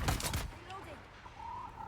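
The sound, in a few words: gunfire from guns in video game Dune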